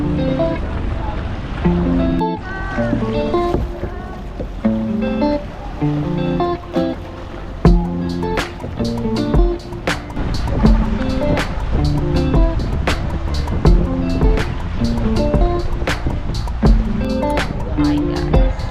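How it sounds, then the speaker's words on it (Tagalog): Strong ocean waves wash and surge at Big Lagoon in El Nido, heard as steady loud roaring water with wind buffeting the microphone and occasional sharp knocks, without clear talk. "malakas ang alon."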